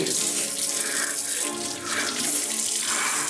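Cold water runs steadily from a tap into a sink, a continuous splashing hiss that swells and dips slightly, with no voices.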